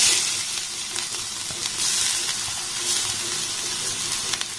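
Grated potato fries in hot oil with a bright, continuous hiss and crackle, close and fairly steady, with faint stirring scrapes now and then.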